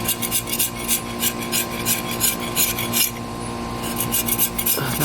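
Paint being scraped off a BMX bike frame, a close, rhythmic rasping with repeated back-and-forth strokes about twice per second over a faint steady background hum.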